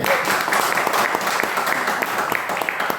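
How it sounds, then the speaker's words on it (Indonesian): An audience at a business opportunity presentation in Pekanbaru bursts into steady, enthusiastic applause, a dense wash of many hands clapping together that carries on evenly for a few seconds. "Tepuk tangan dulu dong."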